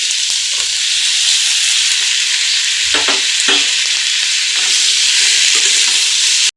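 Loud, steady sizzling of tomatoes frying in a hot pan, with a few soft scrapes of stirring, close up and without talk.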